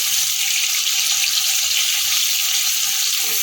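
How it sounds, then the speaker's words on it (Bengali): Eggplant fries in hot oil with a constant bright hiss and crackle, close and even throughout, with no one talking. "আর একটু ভাজবো বেগুনটা"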